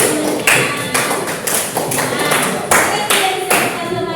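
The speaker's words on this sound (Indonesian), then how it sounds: "Tepuk tangan dulu dong" A school class claps together in a teaching session, sharp unison bursts repeating in a steady patterned rhythm, close and loud, about two claps per second.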